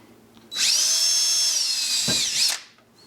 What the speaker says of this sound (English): so we're gonna drill a hole in here first